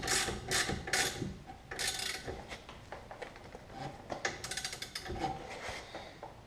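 Hand tools ratchet and clank while brake bracket bolts on a Kia Spectra's rear brakes are tightened, bursts of close metallic clicking and knocks with brief pauses between them.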